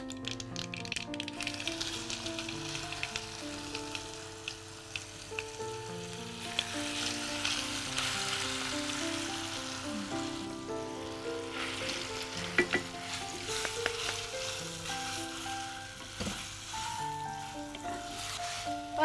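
Ground amla (gooseberry) chutney frying in a pan with a pinch of asafoetida, a continuous loud sizzle and spatter with stirring, over soft tonal music in the background.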